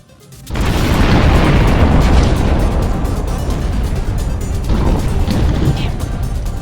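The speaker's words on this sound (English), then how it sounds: "Pyramid's exploding!" A pyramid exploding in the game Tiny & Big, a sudden loud rumbling blast that kicks in after a brief quiet moment and keeps roaring with crumbling debris for several seconds.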